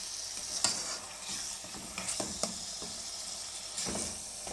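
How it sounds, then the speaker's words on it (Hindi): Minced meat (keema) sizzles steadily in a hot pan over high heat, with a spoon scraping and stirring it now and then, close and fairly quiet, with no talk. "कीमे को भूनेंगे 2 से 3 मिनट के लिए अच्छी तरह"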